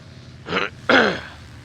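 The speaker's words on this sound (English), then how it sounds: "I'm so close to coughing, it's unbelievable." Someone clears their throat twice in quick succession, two short rough rasping bursts, close and fairly loud against quiet background hiss.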